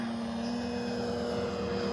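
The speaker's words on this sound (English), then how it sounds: "Plane takes off so quickly." A Hangar 9 J-3 Cub RC plane with a 10cc engine takes off, its engine a steady, loud buzzing drone with a sustained tonal whine that holds throughout, with no voices.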